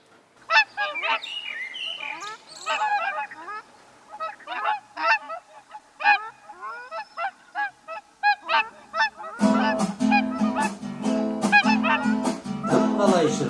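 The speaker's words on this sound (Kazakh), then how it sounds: "Қонып алып талға, қарқылдайды қарға." A crow caws in a string of short, harsh calls, fairly close and loud. Partway through, a busy accompaniment comes in, with the calls continuing over it.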